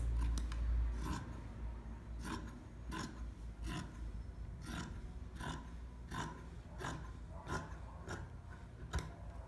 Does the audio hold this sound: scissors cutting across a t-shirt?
yes